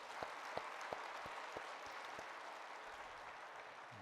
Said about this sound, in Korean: 그동안 수고 많으셨다고 한번 박수 한번 쳐주시면 좋겠습니다